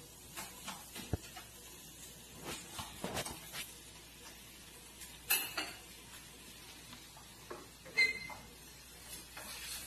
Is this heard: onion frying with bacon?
yes